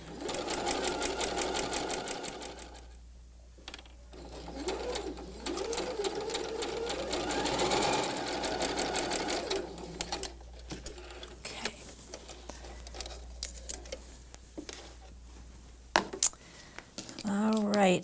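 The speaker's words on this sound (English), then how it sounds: "I'm letting the machine just pull the fabric along." A sewing machine stitches quilt fabric for a quilt block, running in a steady fast mechanical whir that pauses and restarts several times, close and clear, ending in scattered clicks and handling noises.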